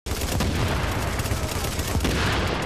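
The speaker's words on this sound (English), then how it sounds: "This LMG is making a huge difference." Sustained LMG machine gun fire in the video game The Division's Dark Zone, a dense unbroken stream of rapid, loud shots with no pause across the whole stretch.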